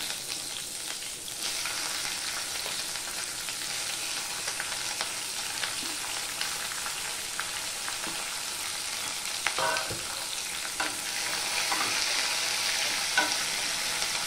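Onion and garlic fry steadily in a pan for Bengali ghugni, a continuous broadband sizzle with occasional spatula scrapes and crackles, close and fairly loud with no talking.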